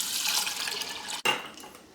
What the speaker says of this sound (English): I'm going to go ahead and pour my water in.